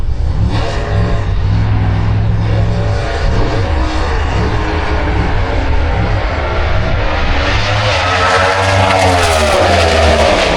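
Drag racing cars, a UK door-slammer and a Swedish Pro Stock car, roar off the line with a deafening, sustained engine blast that builds and rises in pitch as they accelerate away.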